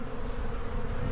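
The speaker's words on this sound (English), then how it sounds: "That's a box of bees right there." Honey bees buzz steadily inside an opened beehive box in a spring apiary, a dense, continuous low hum that stays close and even throughout with no voices.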